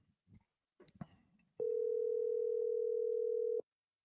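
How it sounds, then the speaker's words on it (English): A telephone dial tone while a call is being placed: a steady, unbroken electronic tone lasting about two seconds, preceded by a few faint clicks and handling noises. "I think we're calling them now"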